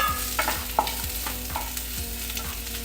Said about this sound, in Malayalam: അപ്പോൾ അതിലേക്ക് നമുക്ക് നമ്മുടെ ക്യാരറ്റും